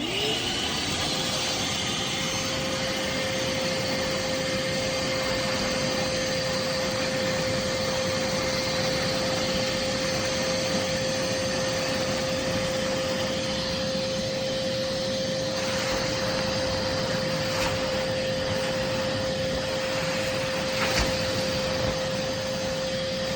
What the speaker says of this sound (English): this is the best little vacuum I've ever bought in my life. It's called a Vacmaster